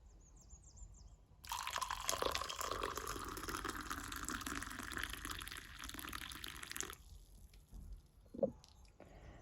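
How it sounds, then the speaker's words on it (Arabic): Water pours into a cup onto frankincense resin, a busy splashing gush for about five seconds, then stops, followed by a quiet clink near the end; no voices. "بحطهم في الكوباية وبنقعه بمية تكون معقمة"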